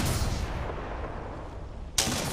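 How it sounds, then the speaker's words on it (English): Kraber sniper rifle fire in Apex Legends, a booming shot decaying at the start and a second sharp blast near the end, loud and close. "I'm putting four bullets on the Kraber."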